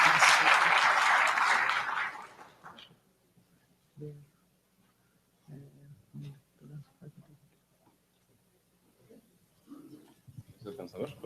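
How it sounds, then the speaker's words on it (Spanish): Audience applause at a conference talk, loud and full for about two seconds, then dying away into quiet, followed by someone speaking briefly. "Un aplauso, por favor, a Fabián."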